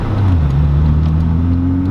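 An exotic sports car's engine hums low and steady during a wedding-day car rally, building slightly in pitch as it accelerates gently, close and continuous with no talk over it.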